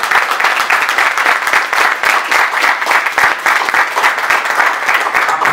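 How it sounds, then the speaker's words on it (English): An audience gives a dense, loud round of applause, steady claps continuing throughout without pause. "I want y'all to give a round of applause for the man in the house."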